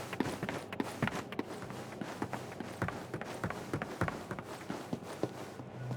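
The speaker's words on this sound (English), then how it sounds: "now you are more hearing the room tone inside this little hall, and also a reverb on the footsteps" Footsteps echo with reverb through a small indoor hall in an Unreal Engine 5 game demo, a steady run of distinct, fairly close steps over a constant room-tone hum, with no voices.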